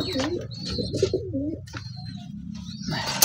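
Pigeons coo at a pigeon farm in repeated throaty rolling calls, close and clear, with a few sharper chirps and quieter gaps between.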